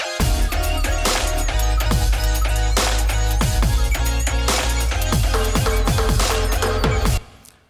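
Live electronic music, performed on drums and an iPad, with dense pounding beats, deep bass and layered synth tones playing loud and continuous before cutting off at the end.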